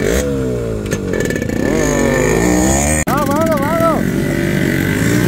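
Yamaha RX two-stroke motorcycle revving loudly up close, a buzzing engine note rising and falling through several blips with a brief cut partway, while a voice talks over it.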